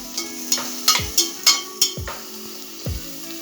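Vegetables frying in a pan are stirred in a series of sharp scraping strokes, each set against a constant hiss of sizzling, close and clear with no talking.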